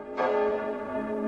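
A theatrical stage effect imitating the Zygmunt church bell sounds a single deep struck tone that swells in and rings on with a sustained, resonant hum, heard alone.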